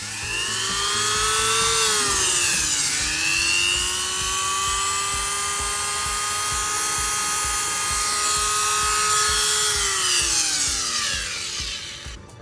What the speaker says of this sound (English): Let's plug it in the Dremel tool. And it should be powered up now.